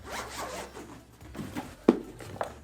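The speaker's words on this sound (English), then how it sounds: "It's a zipper case. We'll unzip it real quick." A zipper on a drone kit carrying case being pulled open in a few quick rasping strokes, close up, with a sharper tug near the end.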